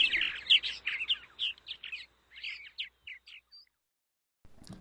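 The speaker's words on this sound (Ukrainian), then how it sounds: "Ластівка." A swallow twitters in a quick run of high chirps and warbles, close and clear. The song trails off into silence before a brief noise at the end.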